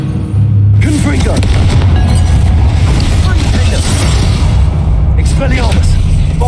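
A Confringo blasting spell in Hogwarts Legacy goes off as a loud booming explosion, with rumbling bursts and debris crackle over a steady low drone, mixed with game voices.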